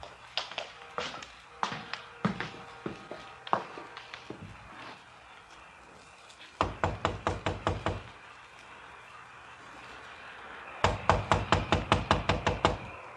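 Knocking on a door in a radio drama arrives as several bursts of sharp raps: slower single knocks at first, then two rapid volleys of about eight to ten firm knocks each, close and loud.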